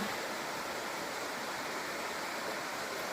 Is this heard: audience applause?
no